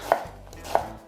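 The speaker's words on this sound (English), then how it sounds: "This is the half of onion, and we cut like this." A knife chops half an onion into mirepoix on a board for a bouillabaisse soup, with two sharp, close cuts spaced about half a second apart and quiet in between.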